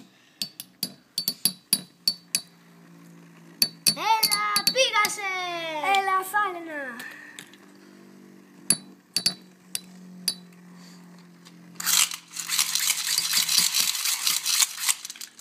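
Beyblade spinning tops clash in a battle arena during a second set, giving sharp repeated metallic clicks and a burst of grinding rattle near the end, while children cheer and shout over the action.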